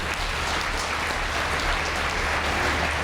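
Loud, continuous clapping from a crowd at a Tamil debate speech event, a steady, dense wash of applause with no pauses.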